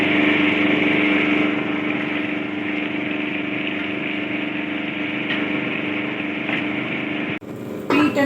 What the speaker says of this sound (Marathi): रगड स्टार्ट करचें.